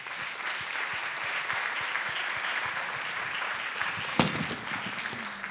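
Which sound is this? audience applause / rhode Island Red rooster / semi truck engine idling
audience applause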